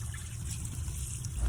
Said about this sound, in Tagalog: Una ay huhugasan muna natin ng ayos ng tubig.